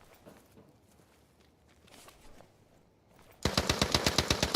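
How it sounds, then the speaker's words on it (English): Rapid gunfire from an M9 pistol in a video game, a loud, regular burst of shots that begins abruptly after a few seconds of quiet rustling and footsteps. "Why does his M9 sound so loud?"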